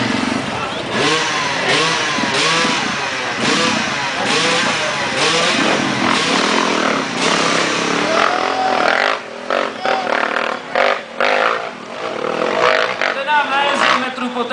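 Motorcycle engine revving hard at a Red Bull hill climb race in Kínov, with sustained loud roaring that rises and falls over crowd noise and commentary, then more broken bursts near the end.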